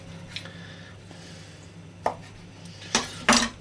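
A knife cuts into a bacon-topped meatloaf on a plate, with a few soft crunchy slices and sharp clinks of metal on the dish near the end over a quiet room hum.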